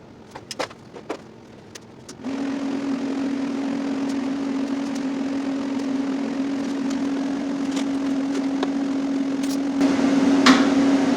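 Grinder wheel smoothing spot welds on a Ford Panther 5-speed swap, a few sharp knocks and then a loud, steady high whine as the wheel spins up and grinds continuously, close and without talk.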